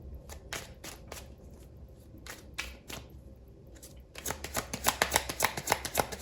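Tarot cards are shuffled nearby in quick crisp riffling bursts, sparse and separated at first, then a denser, louder run of rapid flicks toward the end.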